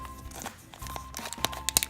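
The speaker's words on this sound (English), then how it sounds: "once you unwrap the plastic" Clear plastic wrap being peeled off a Disney Happy Places blind box by Moose Toys, with close, soft crinkling and small crackling pops growing busier toward the end.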